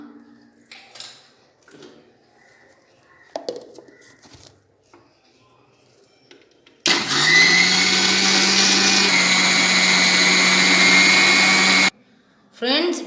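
A blender grinds lemons with salt for Tirunelveli-style lemon juice, a loud, steady whirring roar that starts abruptly after some quiet handling noises and runs for about five seconds before cutting off.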